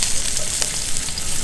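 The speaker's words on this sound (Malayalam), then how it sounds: "അപ്പോൾ നമ്മുടെ മീൻ നല്ല വറുത്ത് മൊരിഞ്ഞിരിക്കുവാണ്" Fish frying in a pan makes a dense, close sizzle that holds steady and loud for the whole short stretch, with slight crackling flickers.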